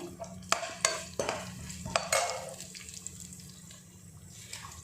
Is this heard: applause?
no